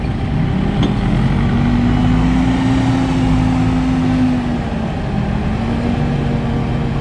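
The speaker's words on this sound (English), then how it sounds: "He loads his truck with the JCB." A JCB loader's diesel engine runs steadily while loading a feed truck at a sales yard, a loud, continuous low rumble with a faint rising whine through the middle.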